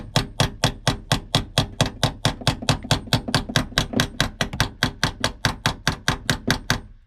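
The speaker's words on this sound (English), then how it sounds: "I'm going to slightly start persuading that to go in with a small hammer" A small hammer taps a door-hinge bushing into the door of a Foxbody Mustang, striking in a steady, rapid series of about thirty sharp metallic knocks, close and loud, with no talking.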